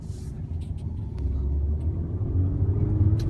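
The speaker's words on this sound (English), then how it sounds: "I'm gonna see how it accelerates in Eco Pro up the hill" A 2016 BMW X1 in Eco Pro mode accelerates uphill, giving a steady low engine and road rumble that swells a little louder partway through, with faint higher ticks above it.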